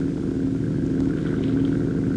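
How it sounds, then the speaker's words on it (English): A ground effect flying scooter runs on a small 7-horsepower Nelson engine, giving a steady, loud, buzzing drone with a constant hum and no change in pitch. "In the scooter, the left handlebar has a throttle control for a small 7-horsepower Nelson engine."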